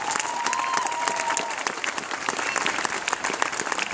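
Lively applause from an audience honoring an honor guard after its presentation of the colors, dense crisp clapping throughout with a brief whistle early on.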